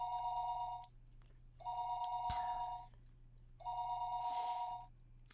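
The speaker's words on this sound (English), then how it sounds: "So, answer the phone?" A telephone rings in the Higurashi video game, three steady electronic trills with short pauses between, clear and alone over a faint low hum.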